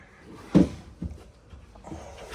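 Kitchen drawer in a 2026 Grand Design Imagine 2700BS travel trailer, one firm thud of it shutting followed by a lighter knock and faint rattling, close and without talk.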